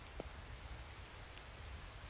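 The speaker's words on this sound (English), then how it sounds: "That is a good thing about it raining is now this thing's full again." Steady, soft rain falling in the survival game The Infected, a faint even hiss of drops with no talk.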